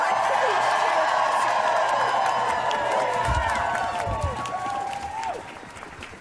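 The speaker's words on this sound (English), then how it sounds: "Let's give a huge cheer." Crowd cheering and applauding at an outdoor rally in support of the CFPB, a loud, sustained roar of clapping and shouts that fades toward the end, with some voices calling out.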